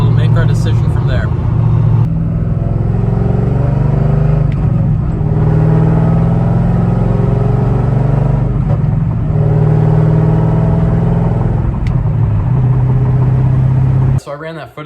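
C5/C6 Corvette with a prototype oil cooler on a test drive, a steady, loud, low engine drone with a throaty hum inside the cabin and small shifts in pitch as it cruises.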